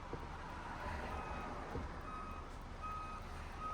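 A truck reverses during a driving-school truck licence exam route, its backup alarm beeping faintly and regularly over the steady low hum of the engine.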